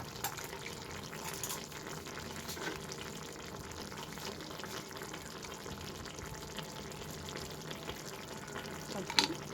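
Water poured into a potato curry cooking on a home stove gives a steady, even hiss and sizzle of liquid hitting the hot pan, continuing at a moderate level with a faint clink near the end.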